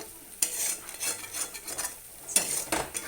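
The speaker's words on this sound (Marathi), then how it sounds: "आता एक तेलावर बघा मसाला चांगला भाजतोय बघू शकता तुम्ही" Masala sizzles gently in oil in a pan while a utensil stirs and scrapes in several distinct strokes, close up, with no talking.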